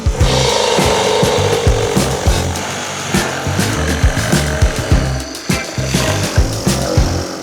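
Hand or power saw cutting away plywood sheathing overhang at the top plate of an off-grid cabin build, with rough, continuous rasping strokes and knocks close by, loud and unbroken, no talking.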